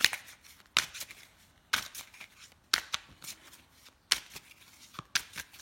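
Tarot cards being shuffled by hand, with crisp riffling bursts and card slaps recurring roughly every second, close and fairly quiet, no talking.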